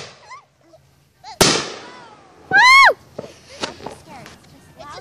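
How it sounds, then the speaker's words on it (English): Fourth of July fireworks going off: a sharp close bang, then a loud screeching whistle and scattered crackling pops, with distant booms and a person speaking faintly between bursts. "You can hear the fireworks in the distance."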